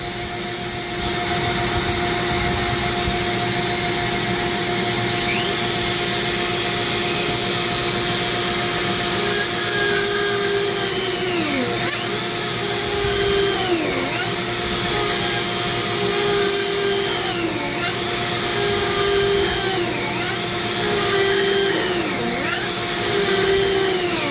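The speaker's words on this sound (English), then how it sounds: "it makes holes pretty easily, even in this really hard wood. So let's make some holes." A powerful power tool bores into hard zebra wood, producing a loud, continuous whine with periodic shifts in pitch as the bit bites and pulls out, over a steady roaring hum.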